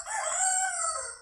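A hen gives a single drawn-out, strained call, close and fairly loud, lasting just over a second.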